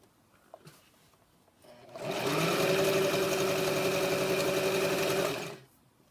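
A sewing machine stitching a fabric pouch runs in one continuous burst of about three and a half seconds, a close, loud, steady mechanical whir that starts and stops abruptly after a few faint handling clicks.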